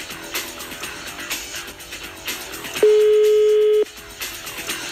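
A telephone line tone rings out during a call: a steady, loud one-second beep stands out over background music and clatter.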